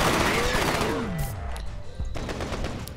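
Rapid automatic gunfire in the shooter F.E.A.R. crackles loud and close throughout, with whooshing sweeps and a few sharp impacts, and no voices.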